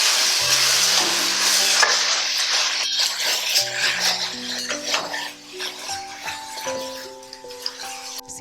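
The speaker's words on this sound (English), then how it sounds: "And I'm going to stir." Beef frying in a pot for Trinidadian stewed beef, a loud continuous sizzle with scraping stirs of a utensil against the pot, plus occasional clinks and a faint sustained tonal hum underneath.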